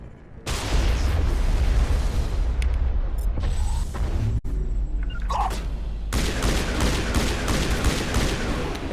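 Grenade detonations and gunfire in the sci-fi shooter game Mass Effect Legendary Edition, a loud dense barrage of booms and shots with a sharp break midway, then more rapid blasts.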